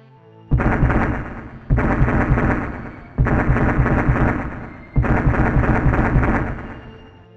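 Shock waves over the Krupina Highlands in October 1942 come as four loud, heavy rumbling booms, each lasting one to two seconds, separated by short gaps.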